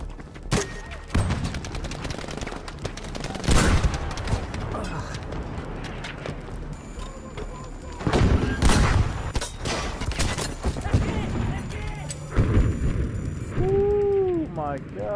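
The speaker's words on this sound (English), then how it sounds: "we've got Parasitoids playing on Armada, pulling off a very nice Panzerfaust shot on enemies across the bridge" Battlefield V gameplay on the Armada map, with scattered gunfire and explosive bangs including a Panzerfaust shot at enemies across a bridge, mixed with game ambience and a voice talking over it.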